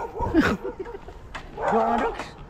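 A dog barks a few times at a moderate distance, with a short yelp in the middle and some background noise.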